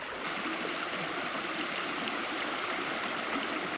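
The Chernaya river flows out of its valley along the Great Baikal Trail near Lake Baikal, a close, steady rushing and gurgling of water with no pauses.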